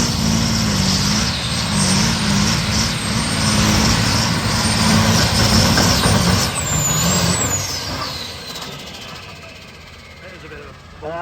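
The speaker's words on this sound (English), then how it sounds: "We're slipping the clutch for as long as he does." A vehicle engine runs loud and steady while the clutch is slipped, droning with a shifting pitch, and a high squeal rises briefly near the end.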